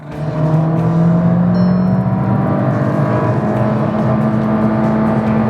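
A Skoda Kushaq Monte Carlo with the 1.5 TSI EVO engine accelerates hard, its engine note climbing steadily in pitch through first gear into second, loud and close from inside the car.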